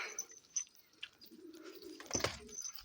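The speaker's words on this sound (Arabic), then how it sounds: "طلع الحمام كيف جوعانة جوح" Pigeons cooing in a loft, soft low coos near and clear, joined by a few faint chirps and a brief rustle or flutter.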